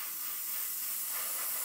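An airbrush sprays camouflage paint onto an Airfix 1/72 Vulcan model kit, giving a steady, close, airy hiss that holds evenly throughout without any talk.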